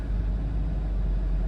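A Chevrolet Camaro SS with its exhaust set to track mode idles with a deep, steady, meaty rumble. The sound is close and continuous, with no revving.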